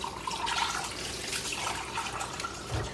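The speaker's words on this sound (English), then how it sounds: "I'm going to add a little extra water just to accommodate that extra can of beans" Water is poured into chili in an Instant Pot to make room for an extra can of beans, a steady close splashing pour with a brief low thump at the end.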